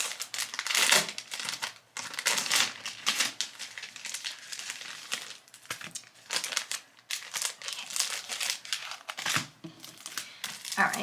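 Plastic packaging crinkles and rustles in dense, continuous bursts close by as it is pulled open, with brief pauses between handling and a voice speaking intermittently.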